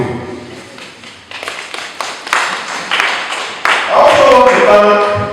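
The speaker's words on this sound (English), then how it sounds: "they will clap for you." Party members at a city NRM election gathering clap in scattered, uneven bursts that start sparse and thicken, then fade under a rising tonal hum near the end.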